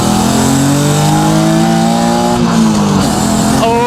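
A loud BMW E36 engine, Super Touring-inspired, revs up close, pitch climbing and dipping in raw, throaty bursts with a brief blip near the end; no talking.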